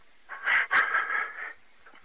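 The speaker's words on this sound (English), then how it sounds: "I hate heavy breathing." A couple of heavy, wheezing breaths over a 911 phone call, close up, rasping and fairly loud, followed by quiet and the start of another breath.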